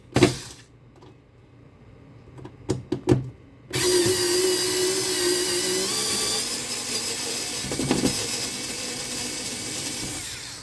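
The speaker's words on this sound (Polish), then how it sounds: "Spróbuję teraz też tą śrubę wykręcić, zobaczymy, jak to pójdzie w drugą stronę." A Parkside PAS 4 D7 electric screwdriver runs in reverse to unscrew a screw. A few quiet clicks come first, then the motor whirs steadily and close for several seconds, with a slight change in pitch as it works.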